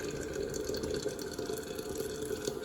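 Water churns and splashes inside a Biolite KettleCharge camp kettle heating on a gas stove. It makes a steady, close, bubbling wash of sound with no speech.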